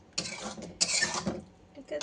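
A spoon stirs taro curry (kochu dum) in a pot, making two short, faint scraping bursts close by with a brief pause between them.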